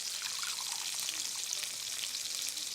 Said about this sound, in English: you're going to add 1 cup of red wine, 1 cup of beef broth